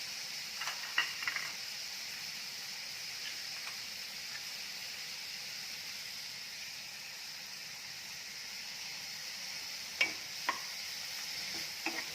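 Tomato sautés with onion in a pan for Maharashtrian eggplant bharit, a faint steady sizzle with a few light spoon clicks near the start and end.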